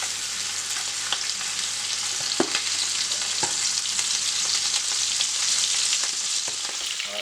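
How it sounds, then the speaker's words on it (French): Sausages and smoked boucané pork sizzle in about three tablespoons of oil in a pan, a steady, close frying hiss with a few sharp pops and crackles throughout. "que je vais laisser frire avec 3 cuillères de la soupe d'huile pour laisser bien frire"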